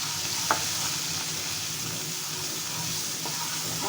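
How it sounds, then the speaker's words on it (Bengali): Turmeric, coriander and chilli powder sizzling in a hot pan for a fish-head, potato and pointed-gourd curry, a steady hiss with a short clatter of stirring near the start and another later. "এখন আমি দিয়ে দিচ্ছি 1 চামচ হলুদের গুঁড়া, একটু ধনের গুঁড়া, 1 চামচ মরিচের গুঁড়া, মশলাটাকে একটু কষাবো।"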